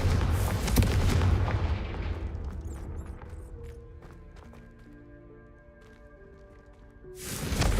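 Confringo blasting spell in Hogwarts Legacy: a loud booming burst opening the scene, decaying into rumbling debris and faint crackles, then quieter ambient tones before another loud surge at the end.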